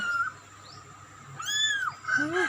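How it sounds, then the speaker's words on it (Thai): A mother cat meows twice, a rising-falling cry followed by a shorter one, fairly close, over a faint background hum, indoors in a room where she has hidden her kittens. "ว่ามันเสียงเหมียวเหมียว"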